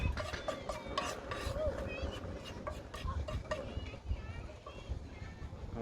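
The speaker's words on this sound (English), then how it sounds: "I'm just mixing all these spices with that mince." Chicken mince being mixed by hand with spices for restaurant-style kebab skewers, a steady soft squelching and stirring rhythm close by, with light clinks of kitchen utensils and a noisy household background.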